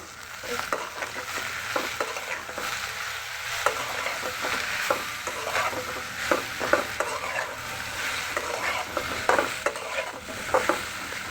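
Vegetables frying in a pan, pumpkin and okra with turmeric and chaat masala, get stirred with a steady scrape and clatter of the utensil over a constant close sizzle, with no voices.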